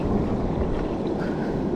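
A kayak out on the sea with waves around it, heard as a steady rushing wash of water and wind noise buffeting the microphone, close and continuous, with no distinct individual paddle strokes standing out.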